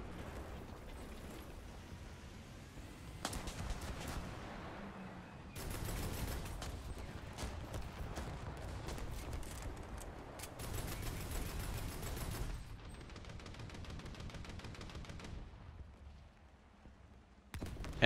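A Wirbelwind's 20mm anti-aircraft cannons in War Thunder fire in rapid bursts, loud stretches of fast repeated shots separated by short pauses.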